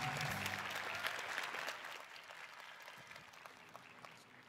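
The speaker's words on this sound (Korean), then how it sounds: "힘찬 박수로 환영해 주시기 바랍니다" At a forum in Korea an audience welcomes Rose McGowan with warm applause, a thick clatter of many hands that is strongest at first and then gradually thins and fades toward a softer patter.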